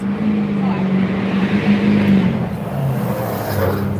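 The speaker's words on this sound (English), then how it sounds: "Y'all hear the trucks in the background?" Heavy vehicles rumble past steadily in the background, a continuous low engine drone that swells slightly midway with no clear pauses.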